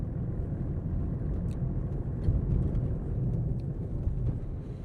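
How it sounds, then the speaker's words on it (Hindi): A 2026 Tata Tiago facelift with a 1.2-litre petrol engine and manual gearbox crosses a rough road patch, giving a steady, deep cabin rumble of road and suspension noise with a few faint knocks. "अब यहाँ पे अपने पास थोड़ा सा रफ पैच है, यहाँ पे आप गाड़ी के NVH लेवल्स को सुनिए।"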